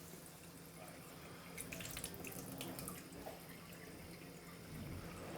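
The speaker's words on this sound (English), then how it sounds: "First, I'm going to get tap water, which is coming from this source right here." Tap water runs steadily from a faucet into a container, a continuous close hiss and splash that swells slightly toward the end, with no voices.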